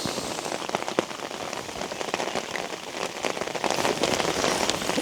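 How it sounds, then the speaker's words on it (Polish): Steady rain falls outdoors at a fishing spot, a dense, close patter of drops on surfaces that stays even throughout, with no talking. "znowu zaczęło padać"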